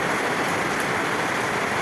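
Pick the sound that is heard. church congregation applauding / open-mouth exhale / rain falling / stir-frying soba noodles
rain falling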